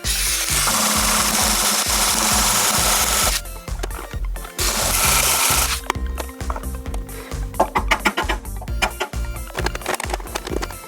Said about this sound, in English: I'm just using my little Dremel with a diamond bit that I got from Harbor Freight